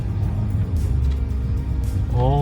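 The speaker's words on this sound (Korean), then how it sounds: "변속 제대로 되고 있고요. RPM 정상적으로 떨어지고 있다라는 겁니다." Hyundai LF Sonata engine running during a test drive, heard as a steady, loud low rumble from inside the car, with a brief voice near the end.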